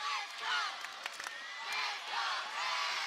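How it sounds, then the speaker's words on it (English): A school basketball crowd in the Ashland High School gym cheers and whoops in rising and falling swells, loud and steady throughout, with a few sharp claps or shouts cutting through. "The crowd is on its feet here at the Ashland High School gym."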